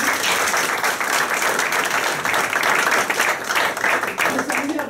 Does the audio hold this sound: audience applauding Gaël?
yes